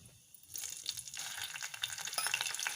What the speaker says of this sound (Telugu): కొంచెం ఫ్రై అయిన తర్వాత